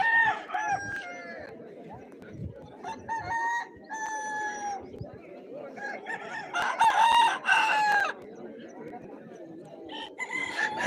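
Roosters and hens at a Shiva Gajan village fair, repeated loud crowing calls and clucking close by over a busy crowd murmur, several birds calling in overlapping bursts.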